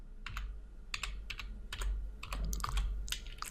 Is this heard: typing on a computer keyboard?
yes